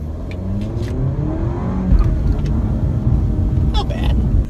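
A 2017 Alfa Romeo Giulia sport sedan accelerates hard under throttle, its engine note loud and rising steadily with road and wind noise over about four seconds, heard from inside the car.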